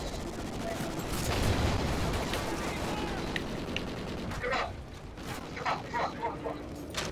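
Video game gunfire erupts in rapid bursts of automatic shots, dense and loud at first, then thinning into scattered separate shots, with faint game voice lines underneath.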